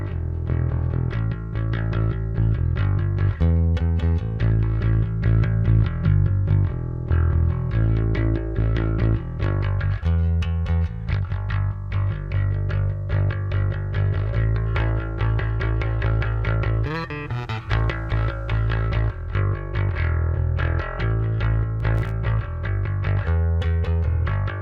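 Bass guitar run through the free Sonic Anomaly Bass Professor MK2 amp simulator as its 7-band section is adjusted, playing a loud, continuous, driven line of sustained notes with brief pauses and a short slide near the end.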